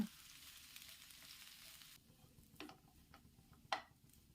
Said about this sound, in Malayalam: അപ്പം നല്ലതുപോലെ ഒന്ന് തിരിച്ച് മറിച്ചിട്ടൊന്ന് ഫ്രൈ ആക്കി എടുക്കാം